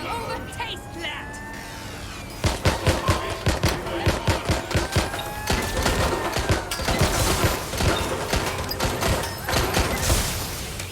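Rapid bursts of automatic gunfire crackle in a shootout in the video game Watch Dogs: Legion, sharp repeated shots in loud clusters over a droning background, with game voices speaking in between.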